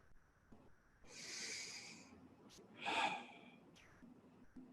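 A person takes a slow, deep breath, a long airy inhale followed by a stronger, breathy exhale, close and quiet with no talking.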